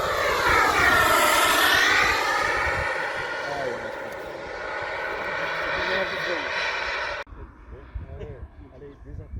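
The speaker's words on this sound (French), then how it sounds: "Il y a une remise de gaz là." Radio-controlled Aermacchi MB-339 jet model throttling up for a go-around, a loud whining turbine roar that sweeps in pitch as it passes, then drops abruptly, with someone talking nearby.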